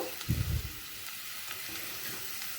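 Tubers fry with turmeric and chili powder in a pan, giving a steady sizzle with a brief stirring scrape near the start.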